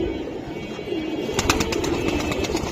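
Pigeons, pangkhi, beji and silver giribaj types, coo softly, with a run of brief flutter-like bursts in the middle over a low steady murmur.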